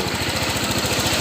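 Honda PCX 160 scooter engine running after being started with its wiring jumpered directly, a rapid, even, throbbing putter heard up close and loud in a brief stretch.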